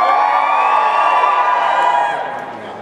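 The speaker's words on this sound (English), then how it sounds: "Your cheer picks the winner." Audience at a cosplay contest final cheers and whoops to pick a winner, a loud dense crowd roar that holds steady and then fades away toward the end.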